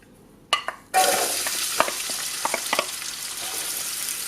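Two chopped onions dropped into oil preheated on high for five minutes in a pot for jollof rice, bursting into a loud, steady sizzle after a couple of clattering drops, with occasional spoon scrapes and knocks as they are stirred.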